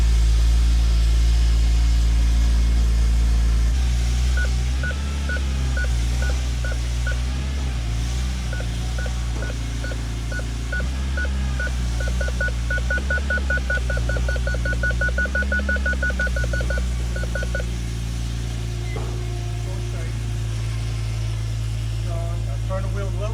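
A BMW E46 M3 wagon's S54 engine fitted with a Euro header, idling with a low, steady rumble through the whole stretch while people talk over it and a rhythmic beeping chimes for a while midway.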